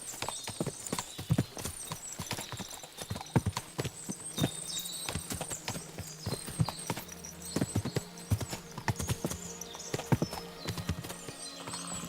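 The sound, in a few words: horses clip-clopping in video game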